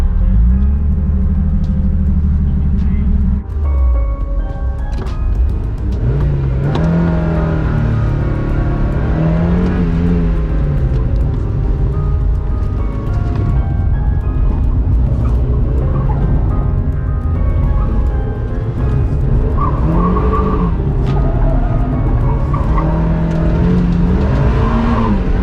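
Autotest car run with the engine revving hard through repeated rising and falling pitch sweeps, tires squealing and skidding in the turns, loud, close and continuous for the whole run with no talking.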